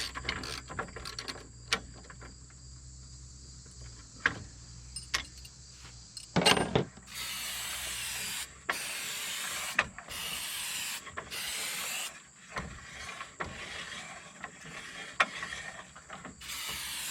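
A wrench ratchets a shouldered bolt tight on a Roadmaster Stowmaster 5000 towbar, with quiet clicks and metal clinks early on, then bursts of rapid ratcheting up close that stop and start several times.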